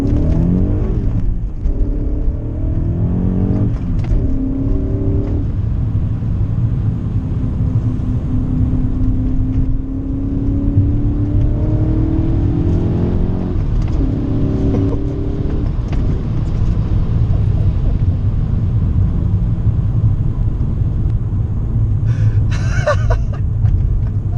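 A BMW accelerates hard, engine note rising in pitch through sweeping revs under steady loud road and wind roar, with a brief higher whine near the end.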